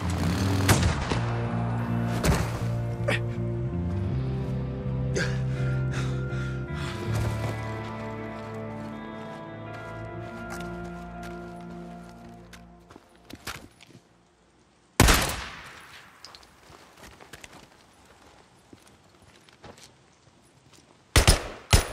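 Sniper gunfire in the game Days Gone, several sharp cracks and booms mixed with heavy tonal game sound. The clip quiets briefly, then a loud blast hits after a pause and another lands near the end.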